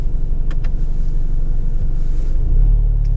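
A Volkswagen Golf R Mk7 engine in race mode rumbles steadily and loudly up close, building slightly toward the end as it revs up.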